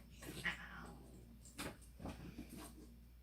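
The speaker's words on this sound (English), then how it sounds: "Sorry if y'all hear the cats fighting." Cats, including an energetic kitten, yowl and caterwaul while fighting indoors, a few short cries and scuffles at a fairly faint, slightly distant level.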